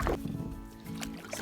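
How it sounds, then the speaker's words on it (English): A canoe paddled across Round Lake, soft paddle strokes with gentle water gurgles and sloshes against the hull, close but quiet, a couple of strokes in a short stretch. "Just paddling along here on Round Lake."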